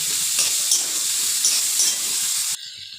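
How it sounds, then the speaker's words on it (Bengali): Fried eggplant and potatoes are stirred hard in a pan of spices, a continuous loud sizzle with scraping strokes, which cuts off abruptly to a quieter hiss near the end. "দিয়ে ভালো করে কষিয়ে নেব"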